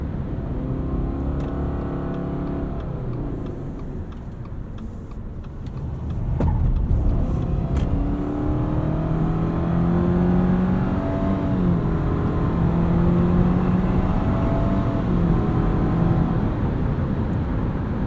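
A 2019 Subaru Forester Sport drives through turns, its engine droning and rising in pitch as it accelerates, with steady road and tire noise from inside the cabin.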